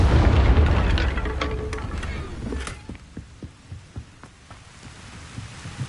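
A Confringo fire spell explodes in the Hogwarts Legacy video game, starting with a heavy, loud boom that rumbles away over a few seconds, followed by scattered thuds and impacts.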